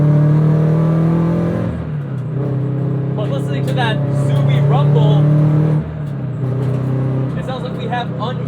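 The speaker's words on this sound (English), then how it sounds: "It sounds like we have unequal length headers." A supercharged 2013 Scion FR-S with unequal length headers idles with a deep, lumpy rumble, rising in a couple of revs before settling back, with a slightly uneven burble to the exhaust.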